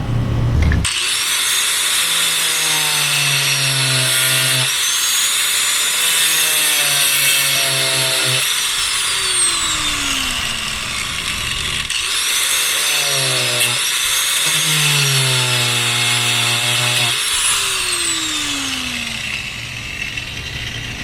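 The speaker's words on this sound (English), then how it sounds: "get the grinder out and cut the damn thing like that" Sustained loud whine of an angle grinder cutting a part on a 1974 Johnson 25 hp outboard motor, rising and falling in pitch over repeated cutting passes, close and continuous throughout.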